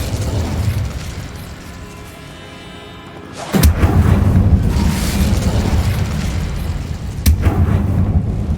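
A fire spell cast with a sharp burst in the Hogwarts Legacy video game, a sudden loud whoosh flaring up after a quiet stretch, followed by sustained roaring crackle and a second sharp flare near the end.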